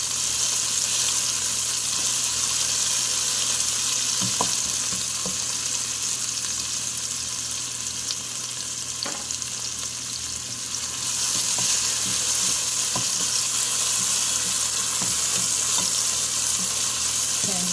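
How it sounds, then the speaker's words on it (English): Onions fry in hot oil with a loud, steady sizzle close by, scattered clicks of utensils against the pan now and then, and no one speaking. "So I'm just heating up on the oil for a little bit."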